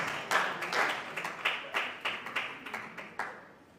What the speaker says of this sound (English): Ladies and gentlemen, round of applause for that.